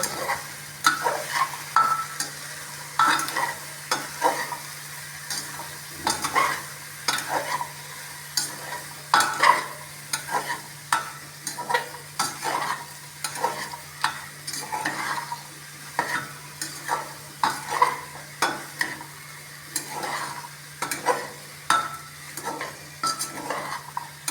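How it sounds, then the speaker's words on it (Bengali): Chopped onion frying in a pan is stirred continuously with a utensil, giving repeated scraping and clinking strokes over a steady sizzle for about twenty-four seconds, with no talking. "কোচানো পেঁয়াজটা দেওয়ার পর আবার আমি একটু নাড়াচাড়া করে নেব"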